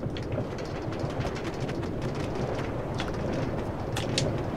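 A metro train rumbles along its track in Minecraft, with a steady, continuous low rolling noise and faint clicking throughout, fairly close and without talk.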